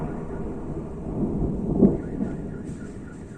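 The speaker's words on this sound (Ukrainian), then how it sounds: "Вот это взрывы снова." A distant explosion booms during a night attack on Kyiv, a muffled low rumble that swells once to a soft thud midway and then fades into background rumble.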